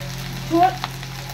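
Rice stirred as it fries in a pot for fish-head murighonto, a short scraping swirl over a steady low hiss, with one brief knock near the end.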